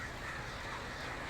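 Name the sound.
flock of crows cawing in video game Alan Wake Remastered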